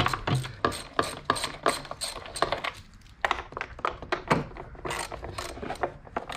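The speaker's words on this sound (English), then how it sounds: "we're gonna start by taking the actual bolts on the wet end side off first" Ratchet wrench clicking steadily as bolts come off the plastic wet end of a Starite Supermax pool pump, a close, dense run of sharp ratcheting bursts with brief pauses between strokes.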